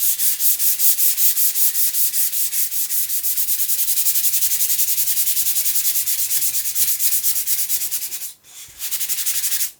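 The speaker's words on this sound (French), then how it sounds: "Je vais maintenant poncer la peinture de façon à la rendre douce" Hand sanding of paint over a wood surface: steady, close, rhythmic rubbing strokes with fast repeated scraping, broken by a brief pause near the end before the strokes resume.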